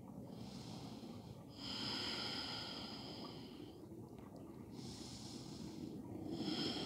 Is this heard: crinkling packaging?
no